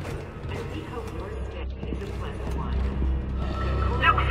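Mechanical clicking and creaking of a door pad being hacked in the sci-fi survival horror game Dead Space, set aboard a powerless spaceship, layered over a steady low hum and sustained game ambience.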